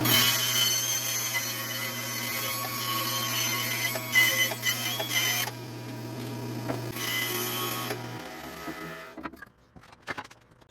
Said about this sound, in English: So I'm going to cut these on the bandsaw, then I can put them on the lathe to turn.